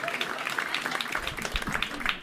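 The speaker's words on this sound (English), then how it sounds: "Keep clapping." Dense audience applause and clapping at a stand-up comedy show, a full, continuous wash of claps from a crowd, with a faint murmur of voices mixed in.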